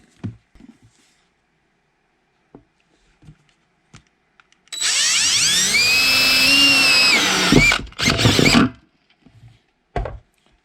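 A power drill with a 22 millimeter step bit cuts into a plastic kayak battery box, giving a loud, steady whining grind for about three seconds, then a short second burst, with scattered handling clicks before and after.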